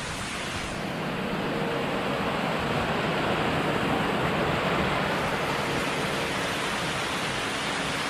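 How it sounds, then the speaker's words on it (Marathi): A babbling mountain stream runs beside a hillside road in a Konkan village near Mandangad, Ratnagiri, making a continuous, even rush of water, close and fairly loud, with no voices over it. "खळखळ वाहणारा हा झऱ्यांचा आवाज"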